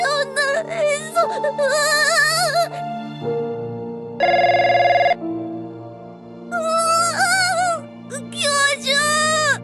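A phone in the Trickcal video game rings with a bright, steady electronic tone in one burst between stretches of high-pitched voiced character sounds and musical notes.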